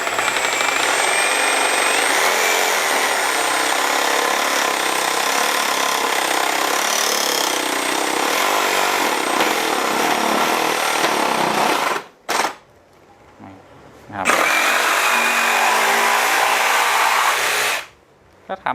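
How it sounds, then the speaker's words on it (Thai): A Milwaukee M18 FJS-0X cordless jigsaw plunge-cutting into wood buzzes loudly and steadily close by for about twelve seconds, cuts out briefly, then starts up again and runs before stopping. "เราจะแทงเข้าไปในเนื้อไม้เลยนะครับใช้กับเลื่อยจิ๊กซอว์ตัวนี้"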